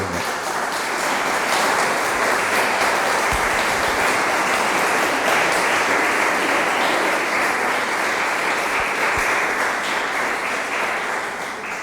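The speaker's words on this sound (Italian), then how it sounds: "Penso meriti un applauso." An audience in a restored temple gives loud, sustained applause at a music concert, a thick and even roar of clapping lasting about twelve seconds before easing slightly at the end.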